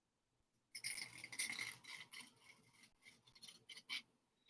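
Craft material being cut by hand in short, uneven rasping strokes, bright and close, in bursts separated by brief pauses.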